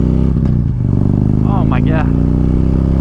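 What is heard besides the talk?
Harley-Davidson pushrod V-twin motorcycle engine running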